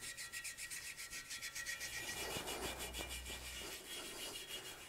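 Rhythmic rasping and rubbing strokes come from cleaning out the swing arm bushing holes on a vintage Yamaha dirt bike; the quick, close, repeated scrapes are heard alone.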